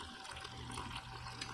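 A steady close stream of warm water pours into a bowl for sourdough, a continuous splashing gush with no talk over it.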